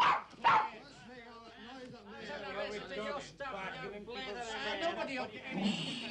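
A dog barks and yips in a 1960s film scene, sharp calls at the start mixed under continuous talking voices and background chatter that carry on through the rest.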